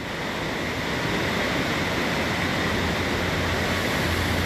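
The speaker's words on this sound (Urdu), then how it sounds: "آواز سنیے دریا کی" Rushing river water, a steady loud broadband roar of flowing current heard close and unbroken throughout, with no voices.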